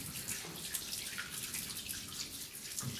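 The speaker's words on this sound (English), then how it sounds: "we flip this switch, and you can hear the water turn on." Tap water runs steadily into a church baptismal, a continuous hissing splash with no break, close and fairly quiet.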